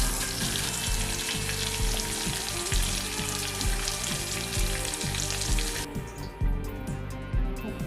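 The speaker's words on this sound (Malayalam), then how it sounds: "അടുത്ത സെക്ഷൻ നമുക്ക് ചിക്കൻ ഇട്ട് കൊടുത്ത് ഇതുപോലെ തന്നെ മൊഴിപ്പിച്ചെടുക്കാം." Chicken pieces frying hard in hot oil, a loud, dense, continuous sizzle with crackling bursts that drops off sharply near the end, leaving a quieter bubbling.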